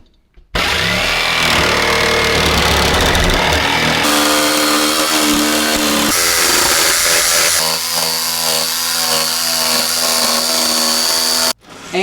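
A power tool cuts out the rough shape of a paipo board, a loud, continuous high-pitched motor whine and rasp running for about eleven seconds, shifting in pitch as the cut progresses, with no talk over it.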